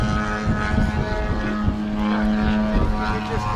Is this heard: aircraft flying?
yes